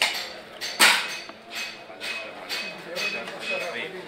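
Hand hammers strike copperware in the coppersmiths' market of Hilla, Iraq, giving a handful of sharp metallic clanks at irregular intervals, one louder ring standing out, over faint market bustle and distant voices.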